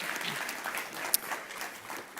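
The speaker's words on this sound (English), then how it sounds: "Please give her a round of applause." Audience applause at a panel event on healthy food access, steady soft clapping from a modest crowd, heard at a distance and fairly faint throughout.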